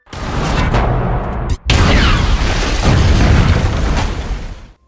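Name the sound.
explosion of a gasoline tank in a zombie movie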